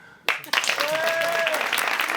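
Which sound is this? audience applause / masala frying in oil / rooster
audience applause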